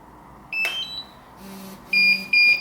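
A DJI Phantom 3 Professional radio controller with its throttle spring removed sounds repeated high electronic warning beeps in short bursts, a chirp early on and then two longer steady tones near the end, close by with no talk.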